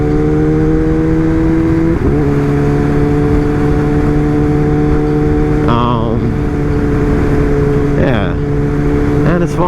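Kawasaki ZX-10R sport motorcycle on a morning road commute, its engine humming steadily with sharp revs and gear shifts several times, heavy wind rush throughout.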